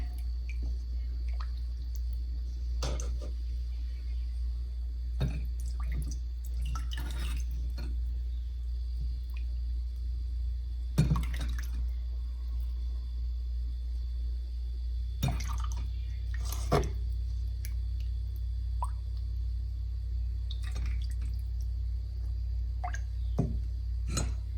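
Bone broth strained through a strainer lined with cheesecloth, giving faint, scattered drips and soft wet taps over a steady low hum, with occasional slightly louder splashes.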